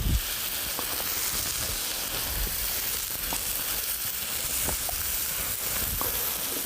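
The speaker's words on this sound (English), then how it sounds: "catfish on the hot oiled grill" Catfish fillets sizzle on a hot oiled grill with a steady, crackling hiss of frying, close and continuous, broken by a few small pops and soft utensil sounds.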